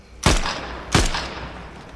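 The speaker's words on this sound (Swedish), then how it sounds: "De skjuter ju på oss här uppe!" Two sharp, booming gunshots ring out in Fortnite, roughly two-thirds of a second apart, each with a short decaying tail, loud against quiet game background.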